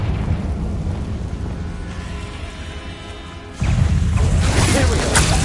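A Confringo explosive spell blast in Hogwarts Legacy lands as a sudden loud burst partway through, followed by a sustained crackling roar.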